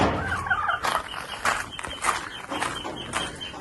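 Repeated high, chirpy peeping from ducklings at a moderate distance, coming in irregular bursts over rustling farmyard background.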